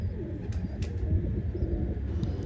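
A pigeon sick with a respiratory infection makes soft cough-like coos and breathy sounds, heard close and continuous over a low rumbling background with no talking.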